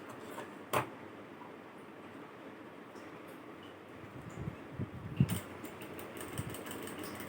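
Sewing machine stitching a backstitch on fabric, a steady low mechanical whir running throughout at close range, with a couple of sharp clicks as it reverses.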